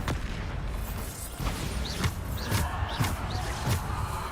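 Bombarda explosion spells burst repeatedly in Hogwarts Legacy, a run of roughly evenly spaced booms and pops over a rumbling combat bed, each with a short bright crackle.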